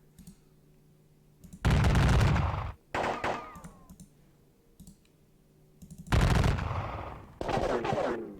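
Rifle fire in the Civil War Battles strategy game comes in two volleys of crackling musketry, each a dense burst of shots lasting about a second, over a quiet background with faint clicking between.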